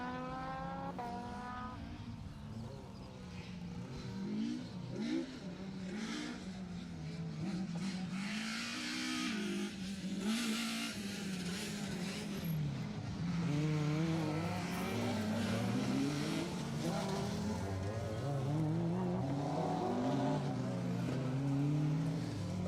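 Honda Civic rally car driven flat out on a circuit rally stage, engine revving hard through gear changes and rising and falling as it passes, tyres scrabbling, heard from trackside at moderate distance.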